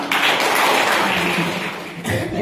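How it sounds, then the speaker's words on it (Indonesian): An audience claps for the children at a Buddhist temple youth gathering in Cemaning, Riau, with dense, continuous applause filling the room for a couple of seconds before it tapers off. "sekali lagi beri aplaus untuk anak kita semuanya"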